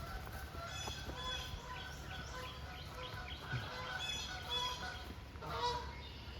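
A flock of geese flies overhead on public land, honking repeatedly in overlapping calls of moderate loudness, some near and some farther off.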